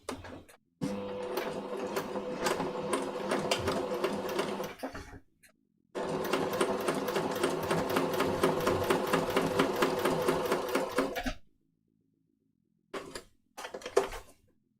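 A sewing machine stitches a shirt placket on a pin-tuck shirt in two long, steady bursts of rapid needle chatter, separated by a brief pause, then a few short stop-start stitches near the end; no talking.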